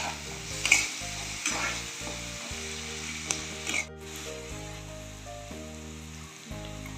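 Bread cubes frying in a pan for bread pulao, with a steady sizzle of hot oil broken by several bursts of stirring and scraping, close up and alone.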